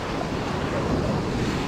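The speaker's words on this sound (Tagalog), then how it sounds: "Grabe yung alon." Ocean surf at a beach gives a continuous loud wash of breaking waves, broadband and roaring, with wind buffeting the microphone.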